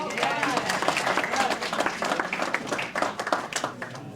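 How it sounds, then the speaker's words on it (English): Attendees at a neighborhood general meeting give a round of applause, distinct individual claps audible in a moderately sized crowd, with voices talking over it throughout. "Let's give her a round of applause."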